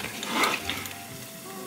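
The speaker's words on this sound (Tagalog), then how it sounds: "So, ngayon guys, yan, nagprito na." Lumpia fry in hot oil in a pan, a soft close sizzle with small crackles and a brief stir or scrape near the start, fairly quiet.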